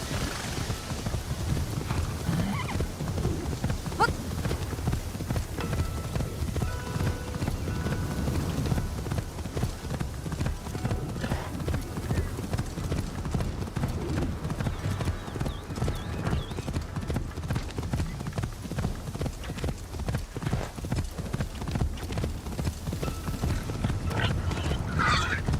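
Horse hooves clip-clop steadily along a town's main street, a continuous close rhythm of hoofbeats with an occasional whinny, over low rumbling background noise.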